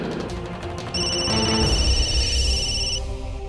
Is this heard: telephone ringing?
yes